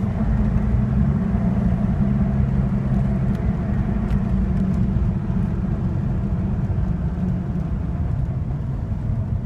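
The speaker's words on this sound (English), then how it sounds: "Vehicle, even with the lift and oversized tires, really performs well." Lifted Jeep Cherokee Sport XJ on oversized tires drives along, a loud, steady low engine and road rumble with constant tire roar, close and unbroken, with no voices.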